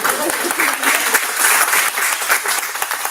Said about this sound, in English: please let's have a round of applause